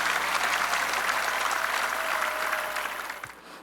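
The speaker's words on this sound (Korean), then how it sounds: "유족들에게 감사의 박수를 보냅시다" A crowd at a Korean church revival service gives sustained applause of thanks to bereaved families, thick steady clapping that holds strong before thinning out and fading away near the end.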